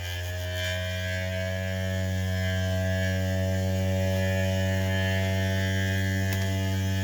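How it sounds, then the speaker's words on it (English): A 3D printed maglev motor with a hardened stainless steel part hums steadily and loudly at close range, a constant tonal drone that holds without change throughout, with no talking. "he now starts automatically, is nice and just hums."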